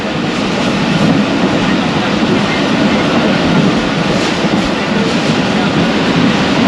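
Karachi Express running through Pattoki railway station, with a loud steady rumble and faint clickety-clack of the wheels on the rails throughout, heard from inside the train.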